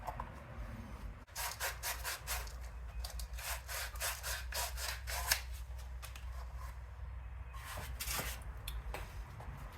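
A PETG 3D print is sanded by hand with a sanding jig, producing fast rhythmic back-and-forth rasping strokes, close and steady, with a short pause partway through.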